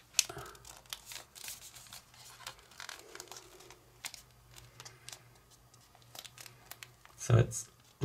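Paper crinkles and rustles in soft, intermittent bursts while an origami fidget spinner is being folded by hand, quiet and close, with a voice talking throughout.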